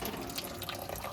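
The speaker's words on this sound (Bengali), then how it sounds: "ময়দা গোলাটা দিয়ে দিলাম, জলটা দিয়ে দিলাম।" Water poured into a flour batter in a home kitchen, a brief, steady splashing pour heard close and fairly quiet.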